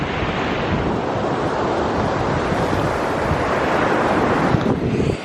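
Ocean surf breaks on the shore in a continuous loud roar, with wind buffeting the microphone throughout and no voices.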